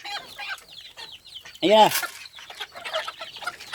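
Ducks being fed by hand, with quacks and clucking calls up close and one loud burst near the middle, while a person speaks briefly among them.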